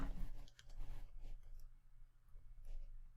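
Soft mouse clicks while editing a page in the Zoho Sites web builder, a few faint, quick ticks spaced across a quiet room background.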